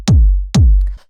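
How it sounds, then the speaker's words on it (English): Two loud, punchy techno kick drums, layered and saturated, each with a sharp click and a deep booming tail, struck about half a second apart and heard alone. "And it's just like a powerful kick."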